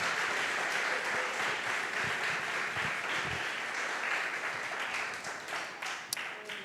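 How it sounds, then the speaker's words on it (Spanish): A church congregation claps together in a sustained wash of applause that holds steady for several seconds and slowly tapers, with faint voices mixed underneath. "Dele ese fuerte aplauso al Señor."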